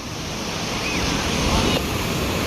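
Sea waves wash continuously onto a Bay of Bengal beach near Nellore, a steady close roar of surf mixed with wind buffeting the microphone, with no break in the sound.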